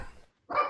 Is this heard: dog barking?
yes